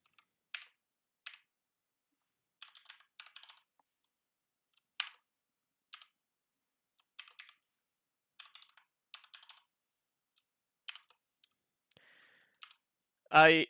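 A new user's password is typed on a computer keyboard, sparse clusters of soft close key clicks separated by quiet pauses, ending with a brief louder sound.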